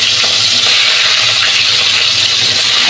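Fish drop into hot oil in a home kitchen and fry with a loud, dense, continuous sizzle and hiss that stays close and steady throughout.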